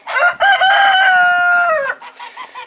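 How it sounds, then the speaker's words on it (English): Chickens and roosters in a homestead coop: one rooster gives a long, loud crowing call up close, followed by softer clucking from the hens. "say hello to all the chickens"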